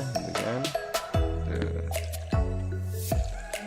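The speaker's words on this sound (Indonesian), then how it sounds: "sambil siram nanti tanaman stroberi ini kita siram" Water drips and splashes as strawberry plants are watered, a run of wet, squishy drops and pours landing close by at irregular intervals.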